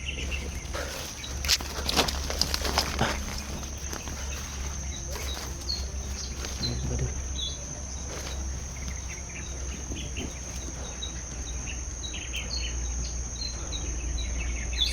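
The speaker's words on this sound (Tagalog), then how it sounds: "Sobrang ingay ng mga ibon. Napakadami ng mga ibon dito mga idol." A large flock of birds chirps and calls noisily outdoors over a constant bed of insect and cricket buzzing, with a few footsteps in the mix and no speech.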